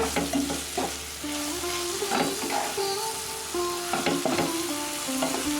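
Soaked sago poha being mixed with powdered sugar in a pan, a spoon scraping and stirring repeatedly against the metal over a soft frying hiss, close and fairly loud, with no voices.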